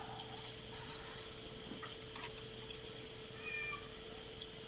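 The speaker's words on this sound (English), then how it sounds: "I hear a kitty cat." A house cat meows faintly at a distance inside a home, a brief soft call over steady low background hum.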